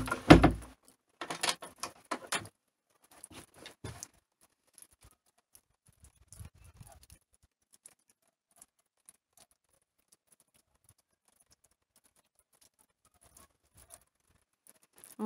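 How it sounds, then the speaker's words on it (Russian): Meltwater drips outdoors after heavy snow in an early-spring thaw: faint, sparse ticks and patters scattered irregularly, with a brief cluster at first and then long quiet gaps. "Отовсюду все капает."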